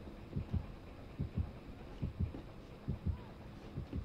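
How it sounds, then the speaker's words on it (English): Faint, steady heartbeat from Dead by Daylight, paired low thumps repeating roughly every three-quarters of a second over a quiet hum, soft and close with no talking. "Oh yeah, I can still hear a little heartbeat."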